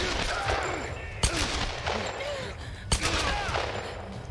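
Gunfire in the Tomb Raider video game, two sharp loud shots standing out against a busy layer of game music and effects, with a voice talking over the action.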